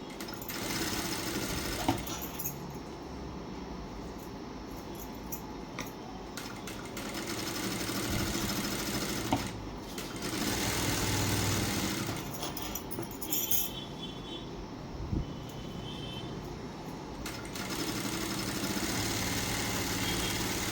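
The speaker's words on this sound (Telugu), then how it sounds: "మళ్ళీ ఈ లోపల వైపు ఒక కుట్టు వేసుకోవాలి." A sewing machine stitches a plain blouse, running in several long continuous passes with short pauses and clicks between them. The motor drone is steady and close, and no one speaks.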